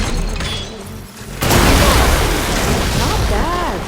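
Glowing crystals detonate in the video game Horizon Forbidden West, a sudden loud boom that bursts in partway through and then rumbles on as a dense, roaring blast, with game voices nearby.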